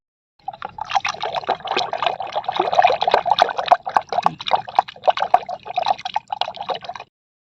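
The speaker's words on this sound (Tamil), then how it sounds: "தயிர் கடைஞ்சாச்சு, நீ போதும் எடுத்துக்கலாம்." Curd being churned with water for buttermilk in a kitchen makes a steady wet sloshing and splashing for several seconds, close and fairly loud, with no voices.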